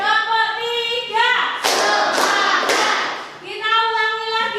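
A senior high school class claps together in a rhythmic pattern, three sharp, loud group claps in quick succession, with a voice talking before and after them.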